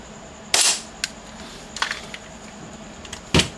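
A KJ Works CZ Shadow 2 gas airsoft pistol fires a few sharp, close cracking pops, spaced irregularly across a few seconds and separated by quieter clicks, with no talking.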